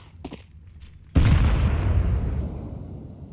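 Grenades blast in a Counter-Strike match at an esports league broadcast, one sudden loud boom with a long rumbling tail, after a quieter stretch of faint rustling.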